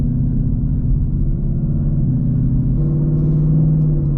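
Ford Mustang in drag mode pulling away with a steady, loud engine drone and low road rumble throughout, the pitch easing upward slightly near the end as it accelerates.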